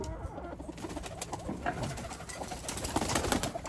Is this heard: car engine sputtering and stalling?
no